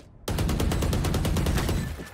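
Rapid gunfire in the tactical shooter game Valorant, a dense burst of about fifteen evenly spaced shots in a steady rhythm, loud and close, with no talk.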